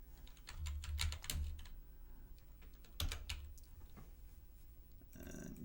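Keys clatter on a computer keyboard as a sample name is entered into lab analysis software, a quiet flurry of uneven taps with short pauses, faint and close against a low room hum.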